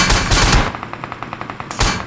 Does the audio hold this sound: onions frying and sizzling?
no